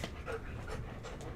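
A dog pants close by, with quick rhythmic breaths repeating several times over a second and a half.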